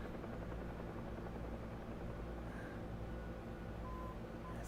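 A helicopter in DCS World on the Syria map, a steady loud rotor thrum and whine droning unbroken throughout, with no one talking.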